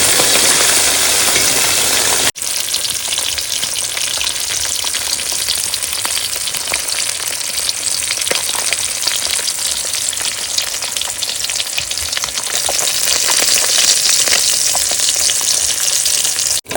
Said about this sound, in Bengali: মাছে কিন্তু নুন হলুদ মাখানো হয়ে গেছে এবার ভেজে নেবো